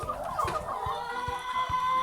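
Laying hens in a chicken coop on a country farm in St. Ann, Jamaica, cluck in a steady series of short, close calls that pulse over a continuous ambient hum, with no voices.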